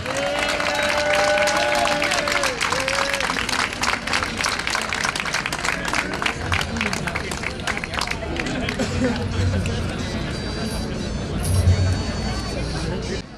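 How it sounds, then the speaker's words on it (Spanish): Audience applause at the XVI Jorgeada walking event in Zaragoza, a dense sustained wash of clapping mixed with crowd babble and cheering voices, steady and fairly loud for the whole stretch. "Un aplauso para Carlos."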